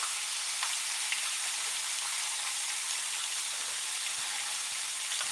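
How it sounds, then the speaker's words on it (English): Steady rain falls outside, a constant soft hiss of drops with no talking, even and moderately loud for the whole stretch. "It wasn't a good day for it today because I can't open any windows because it's raining out."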